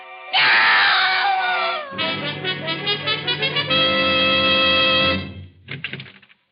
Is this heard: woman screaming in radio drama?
yes